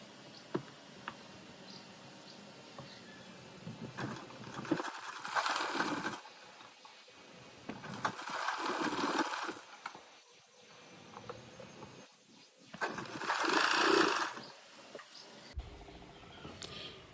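A domestic sewing machine stitching the front piece of a churidar top, running in several bursts of a few seconds each with quiet pauses of handling and small clicks between them.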